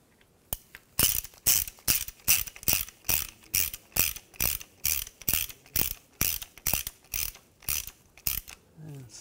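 Ratchet wrench clicking in repeated bursts while running a crankshaft position sensor bolt into a 2006-2010 BMW 550i 4.8L V8, about sixteen short loud ratcheting strokes in steady rhythm, close up with no talk.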